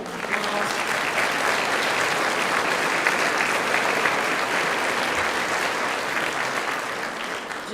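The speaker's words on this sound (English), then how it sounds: "So we need to give that group of people a round of applause." Banquet crowd at a Teachers of the Year celebration applauds, a sustained, even wash of many hands clapping at steady loudness from start to finish.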